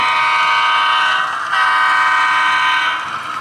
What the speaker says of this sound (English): We're actually going to run this train across our street scene here.